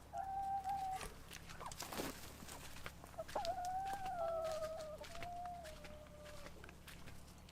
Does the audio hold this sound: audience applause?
no